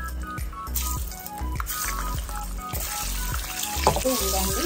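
Eggs frying in a pan with turmeric, salt and chili, a continuous close sizzle with crackles and occasional stirring scrapes, no talking.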